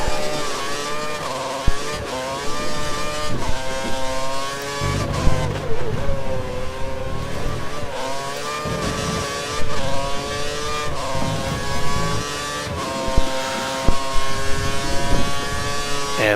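Formula 1 race car engine in the F1 2013 racing game at the Malaysian GP, droning and revving steadily with rising and falling pitch sweeps through gear changes, loud and continuous throughout.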